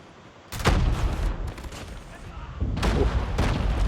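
Bursts of gunfire in Call of Duty Mobile crack out in two loud volleys of rapid shots, with game sound in the background between them.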